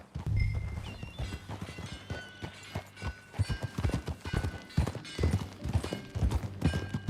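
Rhythmic hoofbeats of a horse at a trot in Red Dead Redemption 2, clip-clopping steadily and fairly close, with a brief whinny near the start and soft background music.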